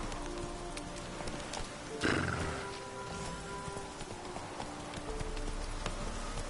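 Horse galloping in The Witcher 3, a quiet steady stream of hoofbeats under game ambience, with a brief louder burst of noise around the middle.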